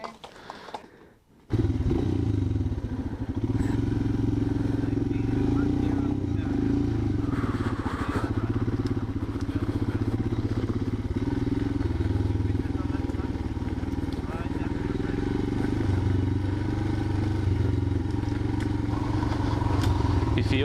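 An off-road motorcycle on a trail at a riding school, its engine droning steadily and loudly for about twenty seconds after a brief quiet start, with clatter from the terrain.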